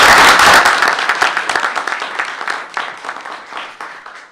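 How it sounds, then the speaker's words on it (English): Audience at a school board meeting applauding the school principals, loud, close clapping that starts dense and gradually thins into sparser individual claps as it dies away. "Can we give them a round of applause?"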